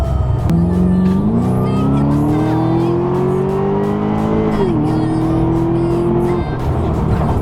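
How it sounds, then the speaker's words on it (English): Supercharged Pontiac G8 making about 505 wheel horsepower, revving and accelerating hard with a loud, rising engine note and supercharger whine. The pitch climbs through gear changes with brief dips, close and continuous. "That's what I really like about superchargers."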